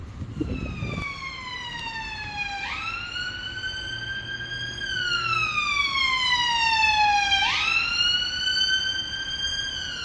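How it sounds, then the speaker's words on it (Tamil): Loud wailing police and ambulance sirens sweep slowly up and down in long cycles, close by and continuous, in Kingston, England, with a brief rustle at the start. "போலீஸ் சத்தம் ஆம்புலன்ஸ் சத்தம் தான்"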